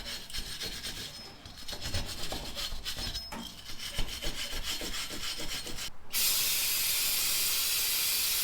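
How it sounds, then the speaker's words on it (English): A wire brush scrubs corrosion off brake parts on a 2013 Toyota Highlander, a rhythmic close rasping of back-and-forth strokes, followed by a sudden steady loud hiss like spray near the end. "I'll get a wire brush, clean that up"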